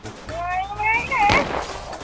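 Rapid gunfire from the Free Fire shooter game crackles under excited overlapping Thai voices shouting during a firefight, with a burst of shots thickening near the middle of the clip.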